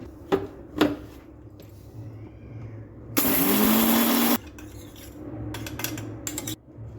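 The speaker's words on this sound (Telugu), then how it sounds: "ఏంపిన ఆవాలు, జీలకర్ర, మెంతులు మిక్సీ జార్లో పోసుకొని మెత్తగా మిక్సీ పట్టుకోవాలి." A mixer grinder whirs in one loud burst of just over a second, grinding roasted mustard, cumin and fenugreek seeds in a jar, with a rising motor whine, surrounded by softer clinks and handling noises in a kitchen.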